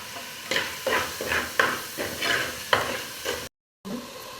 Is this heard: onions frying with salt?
yes